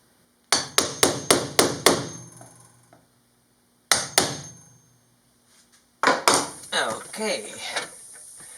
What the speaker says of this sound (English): Get some chisels and chisel that out.